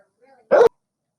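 One short, sharp bark from a dog indoors, close and loud, preceded by a faint whine and then silence.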